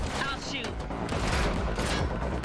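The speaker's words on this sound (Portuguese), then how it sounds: "Ué, eu tô atirando, cara." Rapid gunfire from a player shooting in the Matrix Awakens Unreal Engine 5 demo on Xbox Series S rattles continuously in dense bursts, with someone talking over it.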